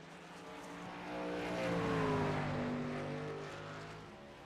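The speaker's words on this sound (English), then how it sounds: "once that car hooks and bites, he's just mashing the throttle, coming straight off the corner" A race truck accelerates out of a corner at New Hampshire Motor Speedway in a racing game, its engine note swelling and rising in pitch as it nears, then easing away; no talk over it.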